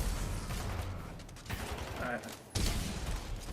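The eraser gun fires in Titanfall 2, a rattling mechanical burst of shots running under speech, with a sharp louder blast near the end.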